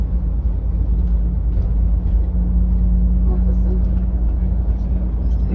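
A steady, loud motorcycle engine drone with a low, constant hum runs throughout, flat out in top gear on the Isle of Man course, with faint wind rush over it.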